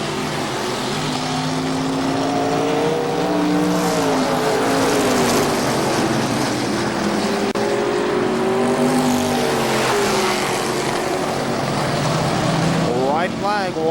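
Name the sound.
Legends race cars racing at KilKare Speedway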